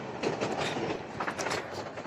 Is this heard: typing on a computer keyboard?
no